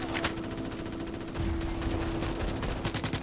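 Rapid automatic gunfire from the Starship Troopers: Extermination video game, dense and continuous bursts filling the scene with steady loud crackle, no pauses between volleys.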